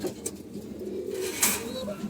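Pigeons coo softly in a loft, a low, rolling call that repeats through the short moment alongside faint rustling, with a brief bright chirp near the end.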